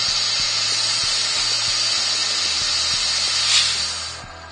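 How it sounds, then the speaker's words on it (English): A wood lathe spins a sycamore platter, giving a steady high whine and hiss with a low rhythmic thump repeating under it; the sound swells briefly near the end, then eases off. "So let's give the lathe a turn."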